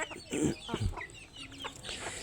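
Native village chickens cluck in short, scattered bursts close by. The calls are soft and quiet, with no talk over them.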